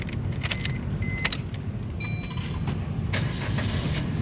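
A 2015 Suzuki Ertiga 1.4 GL manual car with a jingle of keys as the ignition turns, then the engine catches and runs in a steady, close low rumble.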